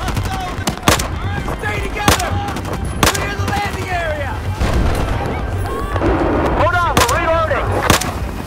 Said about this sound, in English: Cannon fired!